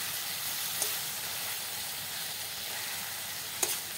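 Eggs fry in a pan with turmeric, chili and spice powders and a little water. A steady, soft sizzle hisses close by with a couple of faint pops and no voice.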